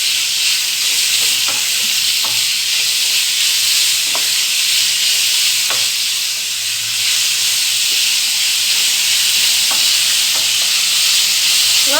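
Onions sauté in hot oil in a pan for a chicken dry roast, a loud continuous sizzle and hiss broken by occasional scraping stirs at irregular intervals, with no talking.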